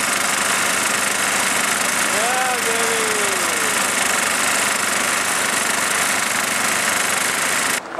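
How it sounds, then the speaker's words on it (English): A gold dredge engine runs hot and steady, a loud continuous rumble with a fast knocking pulse that holds throughout, and someone speaks briefly over it. "Big hot engine."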